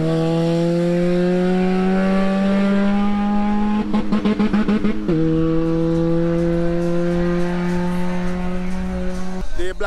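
Turbocharged Honda Civic race cars, a red B20 VTEC Turbo and a white H22 Turbo EG, scream loudly at high revs with a sharp shift midway and a rapid stuttering burst, engines droning steadily throughout.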